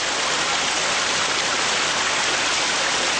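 Spring water flowing at its source in a protected mountain area, a steady broadband rush of water, close and continuous with no breaks and no voices.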